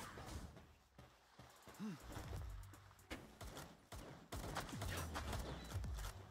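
Gunfire from the video game Palworld comes as bursts of rapid shots mixed with other game effects. The shots run loud and dense, with a brief lull in the middle.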